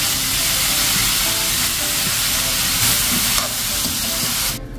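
Green chili sizzles loudly in a hot pan with fish sauce, a dense steady frying hiss with stirring clatter throughout, cutting off near the end; no talk.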